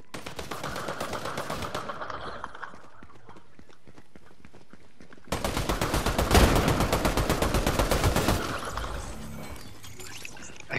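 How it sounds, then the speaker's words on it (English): Bursts of rapid gunfire in the video game Fortnite, a dense rattling volley, a quieter stretch of distant shots, then another loud sustained burst, with no talking. "I hear shots."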